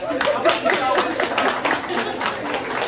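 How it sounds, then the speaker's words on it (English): An indoor crowd gives a round of applause for a singer about to perform a Valentine's Day song, steady mixed clapping filling the whole stretch at moderate loudness. "So, let's have a round of applause for Trisha, please."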